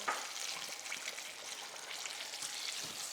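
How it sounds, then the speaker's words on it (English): Chicken tenders frying in hot oil give a steady, close, even sizzle and crackle that holds throughout with no voices. "The last of our tenders are just about done, so I'm going to cut my heat on the oil."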